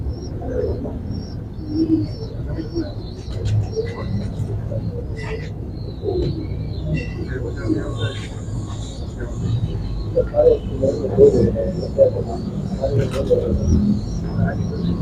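Breeder pigeons coo steadily in a loft in Rawalpindi, soft low repeated calls layered with occasional chirps, under continuous nearby conversation between men.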